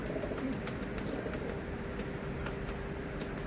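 An injured pigeon with a broken wing gives faint soft coos amid quiet background noise and scattered light rustling.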